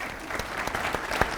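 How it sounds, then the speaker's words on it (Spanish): An audience at a congress on institutional reform applauds the panel speakers, a close, continuous burst of many hands clapping with a few sharper individual claps standing out. "Los despedimos con un aplauso"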